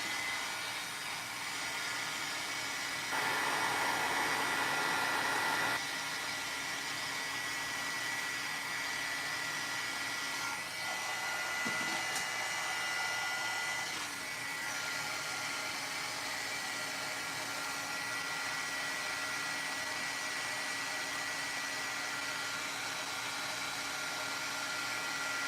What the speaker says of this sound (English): let me heat set this.